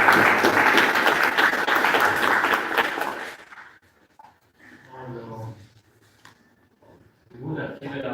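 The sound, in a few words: audience applause after a conference speech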